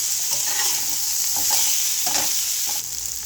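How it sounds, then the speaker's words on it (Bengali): Potol (pointed gourd) frying in a pan for potol vaji, a steady close sizzle with a few soft stirring scrapes and clinks on top, no voices. "এখন এটা একটু ভেজে নেব।"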